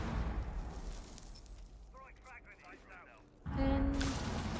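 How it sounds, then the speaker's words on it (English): A frag grenade goes off in competitive Rainbow Six Siege play, a sudden loud burst near the end after muffled gunfire and game noise, with a voice talking earlier. "Sledge is able to take a frag from yellow stairs"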